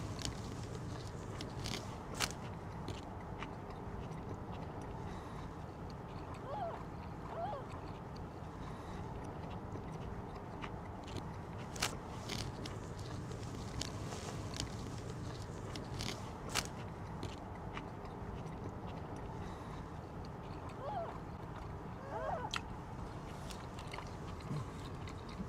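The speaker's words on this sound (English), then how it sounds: "Now we have amazing footage of Ken Domik chewing" Someone chewing a Burger King Whopper with mayo and onions, close up: soft wet mastication with scattered crunchy clicks and crackles over a low steady background, no talking.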